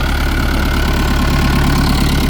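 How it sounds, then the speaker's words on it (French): A tractor engine idles loudly and close by on a farm during transplanting of ground cherries, its low, even, throbbing rumble steady throughout with no talking. "C'est qu'on a un tracteur qui est dédié à ça."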